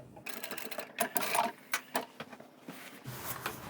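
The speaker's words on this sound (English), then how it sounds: "And I'm going to stop sewing right where this seam is." A sewing machine stitches a large reversible tote bag seam in short close bursts of whirring, pausing and restarting as for a backstitch, with small mechanical clicks and no talk.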